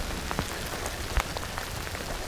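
Heavy rain falls steadily on a wooded turkey-hunting area in Mississippi, a dense, continuous patter with scattered louder drops, close and even throughout, with no talking.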